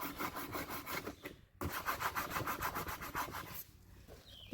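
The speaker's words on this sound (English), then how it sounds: "I like to take these little pieces here that are on the sandpaper and rub them onto the" Small pieces of sandpaper rubbed back and forth onto knots in new wood boards being distressed to look like barnwood, a close, quiet, rhythmic scratchy scrubbing with a brief pause partway, no voices.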